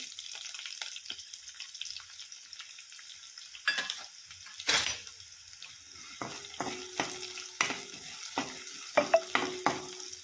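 Onion and leaves frying in a pan, a continuous crackling sizzle with scattered louder spatters and stirring clatters, close and fairly quiet, no talk.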